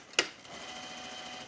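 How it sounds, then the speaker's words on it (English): A sewing machine stitches a seam on an Astell skirt, opening with a sharp click and then settling into a steady, quiet whir that runs to the end. "So I'll first sew my seam a little less than half the seam allowance"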